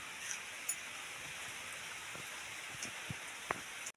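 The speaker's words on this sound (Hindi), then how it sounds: "वर्षा दुलु दुलु ओजाड़ुची" Steady rain falling outdoors, a soft continuous hiss with a few scattered sharper drops, fairly faint and even throughout.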